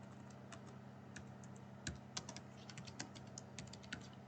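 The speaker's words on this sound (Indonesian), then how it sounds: "yang pertama yang dilakukan yaitu mengetik" Typing on a computer keyboard while entering MySQL commands for a database exercise: a quiet, irregular run of light key clicks with a few louder strokes, close and alone, no voices.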